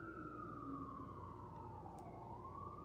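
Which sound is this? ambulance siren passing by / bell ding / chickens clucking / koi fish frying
ambulance siren passing by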